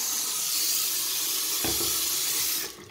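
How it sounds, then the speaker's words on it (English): A hot water tap runs into a bowl at a sink, a steady close hiss of pouring water that changes pitch as the bowl fills, then cuts off near the end. "Just filled the bowl with hot water"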